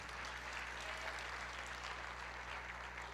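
A church congregation applauds in a dense, steady wash of clapping that carries on evenly, moderately faint and reverberant, with a low hum beneath.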